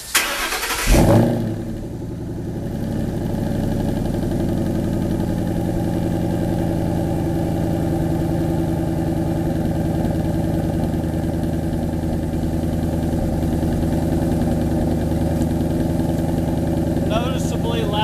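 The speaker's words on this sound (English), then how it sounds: "here's what a cold start sounds like" A 2011 Mustang GT with newly fitted mufflers cold-starts with a sharp crank and loud catch. It then settles into a steady, rumbling idle that carries on evenly for the rest of the clip.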